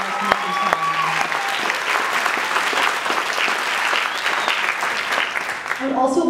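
A crowd at a high school chamber choir winter concert breaks into sustained, full applause, dense clapping filling the room for several seconds, with a voice speaking briefly at the start and again as it fades.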